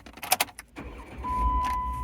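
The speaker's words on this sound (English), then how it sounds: "Car starts, no problem." A 2011 Jeep Wrangler started by remote start, heard as a short burst of clicks and handling noise followed by the engine catching and settling into a steady low idle, recorded close up with a faint warning tone over it.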